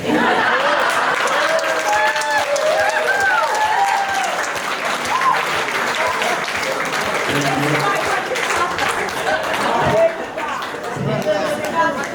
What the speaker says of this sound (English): Another round of applause for Chris.